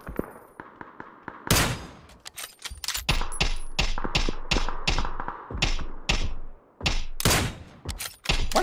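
Gunfire from the video game PUBG: bursts of sharp shots and rapid automatic fire with metallic clangs, loud and repeated in clusters over several seconds, with no talking.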